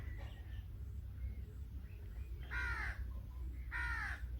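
Two loud, harsh crow caws ring out close by in a foggy garden, one just past the middle and another near the end, over a steady low background rumble.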